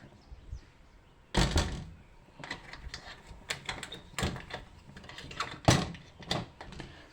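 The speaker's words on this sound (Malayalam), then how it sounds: "ജനലങ്ങ് അടയ്ക്കട്ടെ." Several sharp knocks and clatters of a window frame being pushed and latched shut against strong wind, irregular bangs close by amid quiet rattling.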